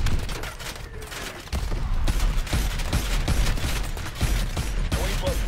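Mobile turret gunfire in Call of Duty: Advanced Warfare, heard as dense, continuous bursts of shots and mechanical clatter that hold loud and steady for several seconds, with game effects layered over them.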